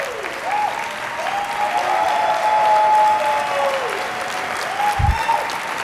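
Keynote audience at AWS re:Invent 2023 breaks into loud, sustained applause, a dense wash of clapping from a large hall that swells slightly in the middle and holds to the end, with brief voices over it.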